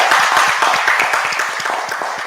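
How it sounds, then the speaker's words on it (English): An audience at a quiz competition applauds, a dense, loud burst of clapping from many hands that holds steady and fades only slightly over a couple of seconds. "give yourselves a big round of applause for making it this far"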